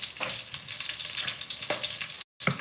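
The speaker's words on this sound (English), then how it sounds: "this is why I don't like frying" Food frying in hot oil gives a steady crackling sizzle with occasional louder pops, fairly close and moderate in level, with a brief silent gap near the end and no talking.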